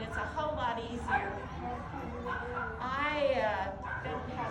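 A dog yips, whimpers and gives soft bow-wow barks almost continuously at close range, with people talking underneath at a medical seminar held at a Jack Russell terrier club trial.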